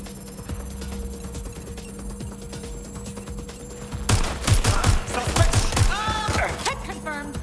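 Gunfire in the video game Watch Dogs: Legion, rapid bursts of automatic shots over steady background game noise, growing louder and denser midway, with a voice speaking and electronic tones near the end.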